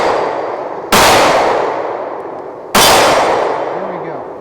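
Two sharp, loud shots from a Springfield Hellcat OSP pistol fitted with a Swampfox Sentinel optic ring out at an outdoor range about two seconds apart, each followed by a long decaying echo.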